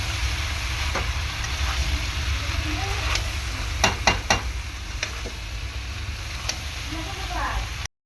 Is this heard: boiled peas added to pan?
yes